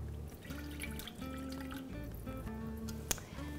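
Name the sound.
pouring warm water into a bowl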